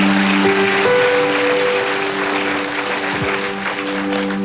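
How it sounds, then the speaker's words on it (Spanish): A church congregation breaks into steady, full applause during a service, a dense clapping wash with a sustained musical tone of held organ or keyboard notes underneath. "Y le damos un fuerte aplauso a Él por eso."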